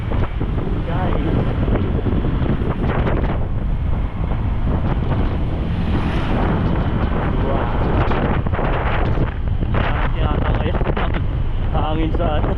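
Strong wind roars and buffets the microphone during a long Honda Click 125 scooter ride toward Baguio, a constant loud, close rushing that barely lets up.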